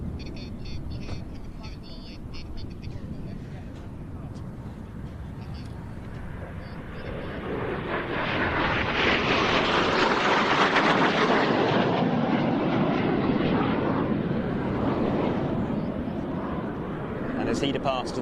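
A solo Frecce Tricolori jet arriving for an inverted pass at an air show swells from a distant rush into a loud, broad roar as it passes, then begins to fade, while a commentator talks throughout.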